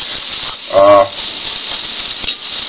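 Eggs fry in a pan with a steady, loud sizzle that runs throughout, broken once by a short sound with a clear pitch and a small clink near the end.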